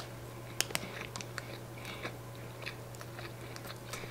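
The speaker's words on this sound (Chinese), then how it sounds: "我来边吃边跟大家说，它长这样子，它是真的，一整片午餐肉在里面。" Someone chews a snack filled with a whole slice of luncheon meat, giving scattered crunchy bites and soft mastication sounds, close and fairly quiet over a steady low hum, with no talking.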